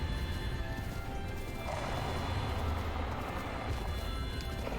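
Horse sounds in Zelda: Breath of the Wild, hooves clattering and a whinny amid crashing action noise, busy and close, with a voice faintly under the mix.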